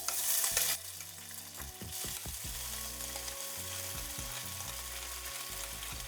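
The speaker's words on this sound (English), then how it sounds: "Leave that for about 10 seconds to get really nice and hot," Tofu fries in hot rapeseed oil in a stainless steel pan: after a loud initial hiss it settles into a steady, close sizzle with bubbling crackle and a few soft taps of the pan, without talking.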